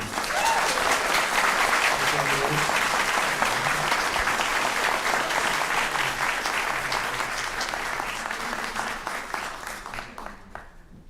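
A large crowd at a city council meeting applauds steadily and loudly for about ten seconds, the clapping thinning and fading toward the end.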